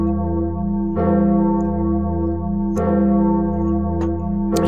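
A bell rung in the Minecraft video game, struck three or four times with strong harmonic tones that ring out and sustain between strikes, clear and alone with no talking.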